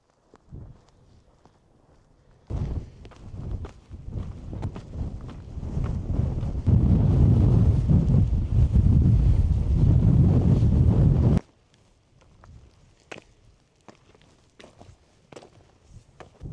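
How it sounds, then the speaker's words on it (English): Strong wind sweeps across the Wetherlam Edge mountain ridge, building from light gusts into a loud, roaring buffet against the microphone before dropping suddenly back to quiet, with faint footsteps around it. "the wind"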